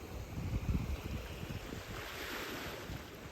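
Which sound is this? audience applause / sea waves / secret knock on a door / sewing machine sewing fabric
sea waves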